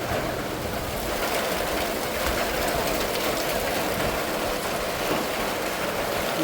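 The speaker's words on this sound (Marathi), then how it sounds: "पाऊस एकदमच जोरात आला आहे" Heavy first monsoon rain in a Kokan village in May, a dense, constant hiss of downpour on surfaces, loud and unbroken from start to end with no voices.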